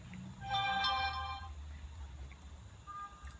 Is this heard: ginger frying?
no